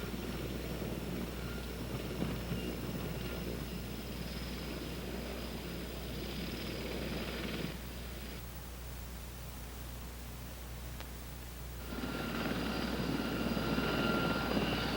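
A CH-54 heavy-lift helicopter engine drones steadily as a loud, broad roar. Its pitch and intensity drop for a few seconds and then rise again, with no voices.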